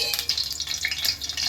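Sliced potatoes frying in two spoons of added oil, a soft continuous crackling sizzle with fine bubbling, steady and fairly quiet throughout.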